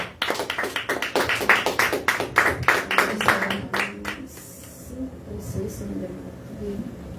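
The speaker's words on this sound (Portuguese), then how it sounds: "Aplauda Senhor na vida da serva dele." A church congregation claps during a pastor's birthday service, brisk and fairly close for about four seconds before the clapping thins out. Voices then murmur and speak over the quieter room.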